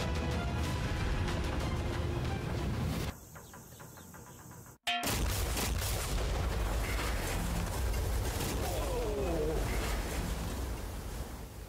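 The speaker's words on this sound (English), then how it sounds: "This explosion is going to be massive." A yacht explosion: a loud, continuous roaring blast fills the clip, briefly dropping out before a sharp crack and a renewed rumbling roar.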